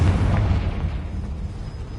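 A Confringo fire spell in Hogwarts Legacy bursts with a loud, deep explosive boom that rumbles and decays over about two seconds, with no talk.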